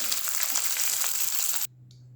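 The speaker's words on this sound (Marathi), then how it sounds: "आता यामध्ये भात टाकून घेऊया आपण" Cooked rice dropped into a hot pan with ghee and cloves for sweet coconut rice, a steady crackling sizzle with stirring scrapes that cuts off abruptly near the end, followed by a faint hum.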